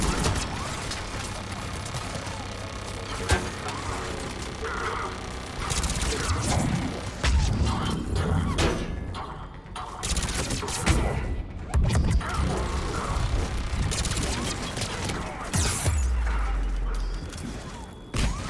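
Turret gunfire and impacts in Mass Effect 3, a dense, continuous barrage of bursts, crashes and thuds with mechanical clatter running throughout, loud and close.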